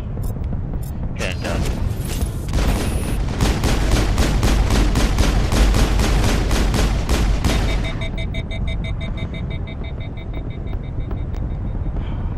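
Sniper rifle gunfire in the sci-fi shooter Mass Effect: a rapid, evenly spaced series of loud shots for several seconds, then a fading electronic hum and ringing tail.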